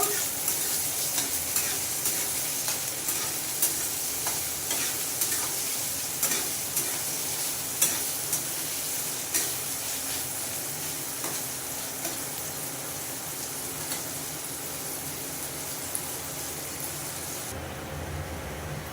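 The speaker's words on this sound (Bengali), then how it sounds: "আমার পেঁয়াজ আর টমেটোটা ভাজা হয়ে আসছে" Onion and tomato fry in a pan with a dense, continuous sizzle, punctuated by regular spatula scrapes and taps as they are stirred, close and steady throughout.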